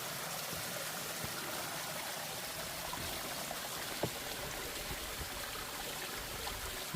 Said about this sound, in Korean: 이 계곡 옆으로 이 물 흐르는 거 한번 보이소.